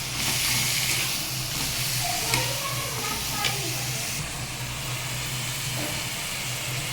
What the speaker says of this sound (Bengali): জিরে ফোড়ন দিয়ে লাউ দিয়ে দিয়েছি। এবার এটাকে নেড়ে চেড়ে নেব।